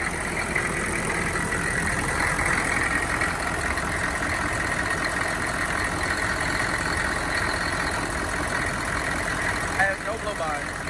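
A rebuilt 6.5L diesel in a 1994 Chevy Silverado C3500 idling steadily, a dense, even clatter and drone held at constant loudness close by, with a brief dip near the end.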